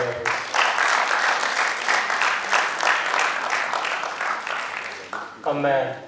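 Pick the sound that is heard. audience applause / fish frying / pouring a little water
audience applause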